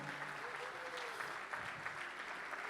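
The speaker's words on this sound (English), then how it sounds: "Again, round of applause for Junior and Amira," A crowd at a celebration dinner applauds two honorees with a soft, continuous wash of clapping that sounds distant and fairly quiet.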